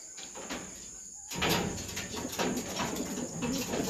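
Homing pigeons coo repeatedly nearby, steady soft calls running through most of the stretch and growing fuller after a brief quieter opening, with no talking.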